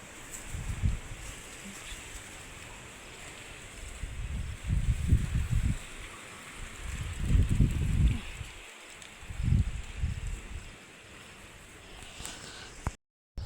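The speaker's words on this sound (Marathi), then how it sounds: "पहा किती हवा तुफान सुरू आहे" Strong pre-monsoon storm wind gusting at night around 3 a.m., a steady roaring rush with louder buffeting surges every few seconds, close and continuous with no voices.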